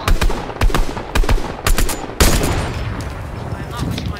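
Video game gunfire rings out in rapid automatic bursts, several short volleys followed by sustained shooting, loud and close with voices mixed in.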